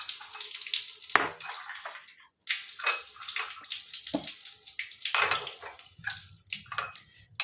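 Tap water runs in bursts into a series of containers, filled one after another with tap, bore and Manjira supply water, the splashing pouring noise stopping and restarting several times at close range with no talk.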